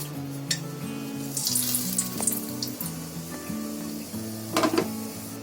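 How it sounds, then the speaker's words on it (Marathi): Two bay leaves and a cinnamon piece crackling and sizzling in hot oil in a wok, a continuous close frying hiss with small pops and a few clinks of a utensil. "आता आपलं तेल टाकलंय कढईमध्ये. त्याच्यामध्ये हे 2 तेजपत्त्याची पानं आणि 1 दालचिनीचा तुकडा."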